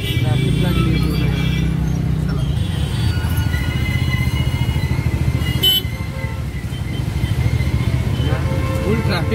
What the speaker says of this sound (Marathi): फुल ट्रॅफिक जाम आहे इथं चालू आहे